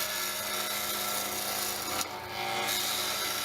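A gouge or scraper cuts into a spinning piece of wood on a lathe, producing a continuous loud scraping, rasping drone with a brief dip in the middle.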